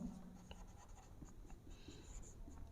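Chalk or marker writing on a board during an accounting lesson, faint scratchy strokes in quick short bursts close to the microphone.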